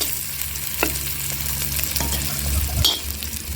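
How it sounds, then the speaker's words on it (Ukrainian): Onions fry in a pan with a close, steady sizzle, broken by a few light scrapes and taps of a stirring utensil. "Додаємо цибулечку. І так, обсмажуємо"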